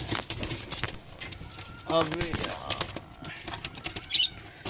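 A restless pigeon beats its wings in quick flurries while being caught by hand, the flapping bursts close and uneven, with a person talking over much of it.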